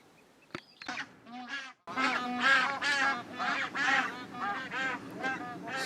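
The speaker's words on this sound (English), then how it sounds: "Again, a very noisy geese." A flock of noisy geese honking repeatedly at sunrise on the promenade at Grange-over-Sands, a dense chorus of nasal calls overlapping near the listener, moderately loud with a brief pause before the honking picks up again.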